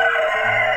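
A rooster crows close by in a backyard poultry pen where young chicks and hens are kept, one sustained harmonic call filling the short moment with no talk over it.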